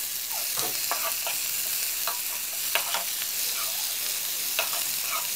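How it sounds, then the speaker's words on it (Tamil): Sliced tomatoes sautéing in a frying pan for Tamil-style poori potato masala, a steady close sizzle broken by repeated scraping stirs of a spoon, with no voices. "2 தக்காளியை சேர்த்து தக்காளி நல்லா வதங்குற வரைக்கும் வதக்குறோம்"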